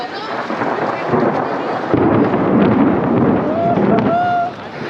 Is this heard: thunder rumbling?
yes